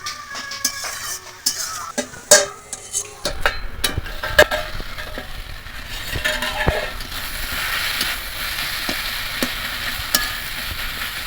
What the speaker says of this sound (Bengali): খুন্তি দিয়ে এইভাবে একদম ভালো করে একটু মাখতে হবে